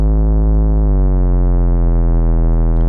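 A steady, buzzy saw wave tone from a Monark synthesizer with rich harmonics, its pitch dipping slightly then holding as the timbre brightens, sustained and loud with no voices.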